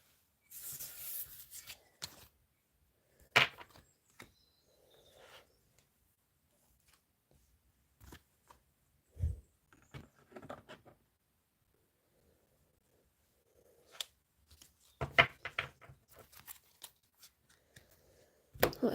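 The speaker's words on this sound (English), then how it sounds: "Let's have a shuffle." Tarot cards are shuffled by hand during a reading, with intermittent riffling and sliding bursts separated by quiet pauses and a few soft taps, heard close and fairly faint.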